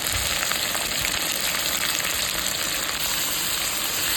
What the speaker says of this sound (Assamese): ভাজাৰ পিছত এইফালে এতিয়া মাছখিনি দি দিছোঁ।